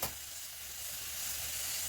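Spices tempering in hot oil for a quick biryani make a steady close sizzle and hiss that holds evenly throughout, with no voices over it.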